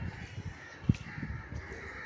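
A single crow caws once, faint and distant, against quiet outdoor background noise on a cold, cloudy winter day.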